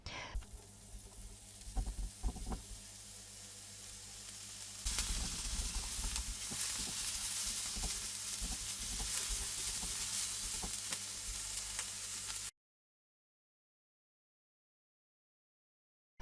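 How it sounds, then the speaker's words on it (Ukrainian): Steady sizzling of onions frying in a hot pan until translucent, a soft stir early on, then louder continuous crackle until the sound cuts off into silence. "цибуля обсмажується 2-3 хвилини до такого прозорого кольору"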